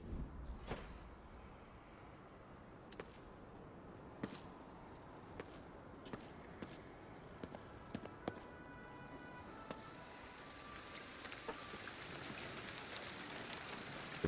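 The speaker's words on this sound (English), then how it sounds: "Rain again." Rain in the Ghostwire: Tokyo video game, a soft steady patter with scattered sharper drops and small clicks, faint and continuous with no voices.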